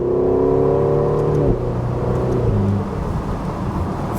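A Ferrari California T, a ten-year-old Italian car driven in Spain, revs loud and close, its engine note climbing steadily before dropping sharply at an upshift and pulling again under steady rumbling road noise.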